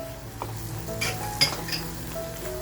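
Homemade masala sautéed with onions in a pan over a slow flame: quiet sizzling under a few metallic clinks and scrapes of a utensil against the pan.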